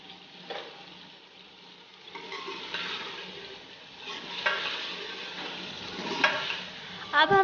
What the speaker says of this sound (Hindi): अब हम चिकन को 10 मिनट के लिए अच्छे से भून लेंगे।